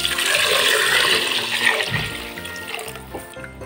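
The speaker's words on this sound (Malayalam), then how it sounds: "ഇനി ഇതിലേക്ക് ഞാൻ വെള്ളം ഒഴിച്ചു കൊടുക്കുകയാണ്." Water poured from a vessel into rice in a cooking pot while making carrot chicken pulao: a steady, close splashing gush for a few seconds that eases toward the end.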